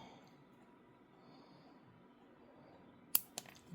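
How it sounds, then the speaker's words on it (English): Scissors snip a Hoya houseplant leaf from its stem: after a quiet stretch, two short, crisp cuts land close together near the end. "so I'm going to snip just the leaf off."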